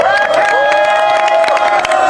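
Audience at a Korean arts university student rally opposing a presidential impeachment cheering and clapping for a graduate speaker, a loud crowd roar with whoops and scattered claps, sustained throughout.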